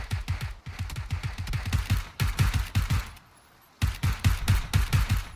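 Rapid automatic gunfire in PUBG Battlegrounds crackles in fast, loud, close bursts, with one short gap of quiet in the middle before the shooting resumes, and no talking.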